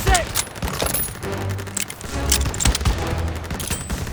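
Rapid bursts of gunfire in Call of Duty: WWII crackle in quick succession, loud and close, with sharp shots layered over a rumbling battle background.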